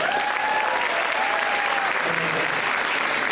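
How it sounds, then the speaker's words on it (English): Audience clapping along in rhythm to the children's song "If You're Happy and You Know It" at a high school grand march, steady loud applause filling the room while a voice sings over it. "would you clap your hands?"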